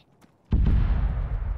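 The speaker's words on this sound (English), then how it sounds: "I'm getting reports of explosions. I hear it." A heavy explosion bursts out after a brief quiet moment in a military video game, a sudden loud boom that rolls into a sustained low rumble.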